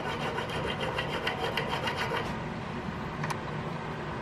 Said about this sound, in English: Come in here with a round file.